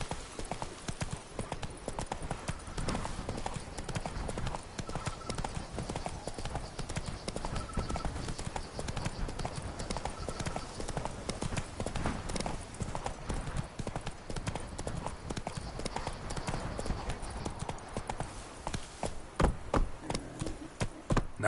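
In the video game The Witcher 3, a horse gallops with rapid, continuous hoofbeats clopping close up over a faint background, and a voice is heard briefly.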